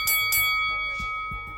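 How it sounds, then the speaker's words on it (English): A small bell is struck twice in quick succession, close and bright, and its ringing tone lingers and fades with light background noise. "it's going to be a little bell that you're going to hear now"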